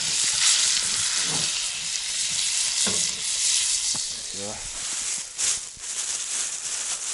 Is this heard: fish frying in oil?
yes